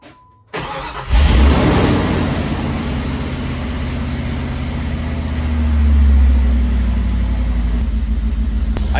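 A 1996 Jeep Grand Cherokee with the 5.2 engine and a new idle air control valve cranks briefly and fires, then settles into a loud, steady rumbling idle with a slight rev swell midway.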